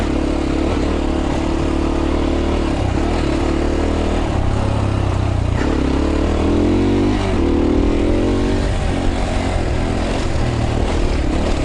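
Zongshen CSC RX3 Cyclone motorcycle ridden off road, its engine droning steadily and rising in pitch as the rider accelerates, with rough clattering and wind noise throughout, loud and close.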